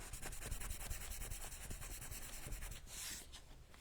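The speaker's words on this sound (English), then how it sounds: "My beeswax isn't quite rubbed in." Beeswax rubbed by hand over a painted watercolour paper bookmark, a steady close scratchy rubbing with quick repeated strokes, alone with no talk.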